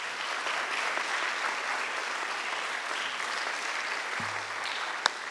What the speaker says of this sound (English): would you please join me in a warm applause for these young men and women?